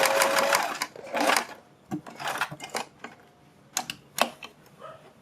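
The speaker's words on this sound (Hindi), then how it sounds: "इन निशानों के ऊपर हम बिल्कुल सीधे इसको रखते जाएंगे और सिलाई लगाते जाएंगे" A sewing machine stitches a fabric strip onto a garment neck design with pintucks and loops, running in loud, close bursts of rapid needle chatter separated by short pauses and clicks.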